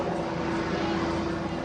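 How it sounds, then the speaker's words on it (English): A police helicopter flies overhead at a street crime scene, a steady broadband rotor and engine drone that stays constant and fairly loud throughout the short stretch. "Helicopter is flying above."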